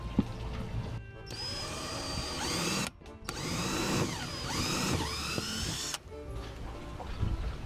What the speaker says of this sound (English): I'm always drilling holes in my boat.